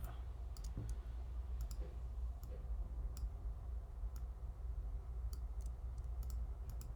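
A computer mouse clicks sharply several times, short scattered taps over a low background hum, fairly faint and irregular in timing.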